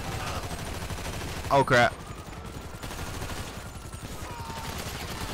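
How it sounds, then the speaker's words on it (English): Gunfire in the video game GTA 5 crackles in a short burst of shots amid game noise, while a player speaks briefly. "he shot our partner"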